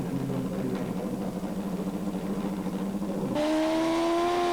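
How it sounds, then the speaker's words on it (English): A Grand Prix class drag racing motorcycle at Hockenheim Nitro Olympics 1992 sits on a steady engine drone, then its rear tyre lights up in a burnout and the pitch jumps into a higher, louder sustained wail near the end. "And that is Jorgen Orkicker lighting up the rear tyre."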